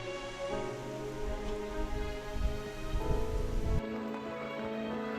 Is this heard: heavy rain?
yes